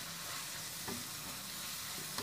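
Basil chicken stir-fried hard in a pan, a steady loud sizzle with a couple of sharp utensil scrapes against the metal, no voices.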